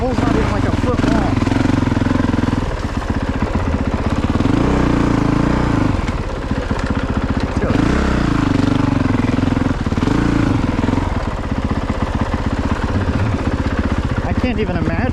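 A Honda CRF450RX dirt bike engine drones loud and near on a muddy single track, throttle surging and dropping in repeated pulses while a rider talks over it.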